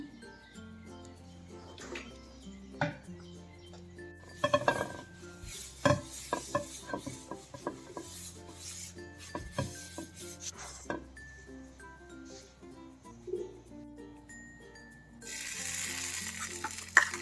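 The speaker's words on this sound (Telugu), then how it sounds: "స్టవ్ వెలిగించుకుని పాన్ పెట్టుకుని వేడెక్కాక ఆయిల్ వేసుకుందాం" Oil sizzles in a hot pan on a stove, heard briefly near the end as a bright hiss. Before it, music plays with scattered clinks and kitchen handling.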